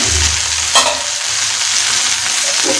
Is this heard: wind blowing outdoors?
no